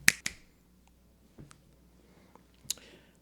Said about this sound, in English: Let me snap my fingers and it's going to be magic.